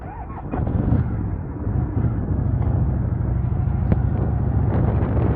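A motorcycle with a sidecar, carrying a dog, pulls away from a house. A steady, close engine rumble swells after a brief idle and holds as a loud, continuous drone.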